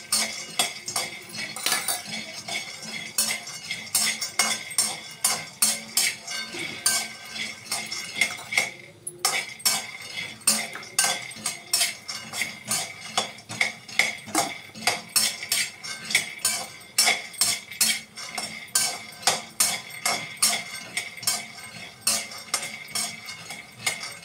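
Peanuts roasting in a pan, with quick metallic scrapes and clinks of a utensil stirring against the pan in a lively, uneven rhythm, close and clear, with no voices.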